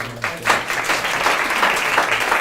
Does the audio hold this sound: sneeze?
no